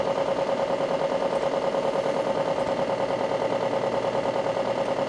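A first-generation Suzuki Hayabusa motorcycle engine held on its rev limiter, a loud, constant high-pitched howl with a fast buzzing stutter from the limiter cutting in, unbroken from start to finish.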